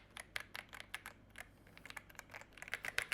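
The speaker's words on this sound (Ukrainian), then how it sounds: "Вибачте, мені потрібна хвилинка з цією клавіатурою." Quick, light keystrokes on an AJAZZ computer keyboard patter in an uneven stream of soft clicks, fairly quiet and close, with no voices.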